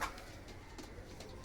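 Pigeons from a loft of Egyptian fancy breeds, ghazzar, kashk and shaqlabaz, cooing faintly and steadily in the distance against a soft, airy background hiss, with no talk.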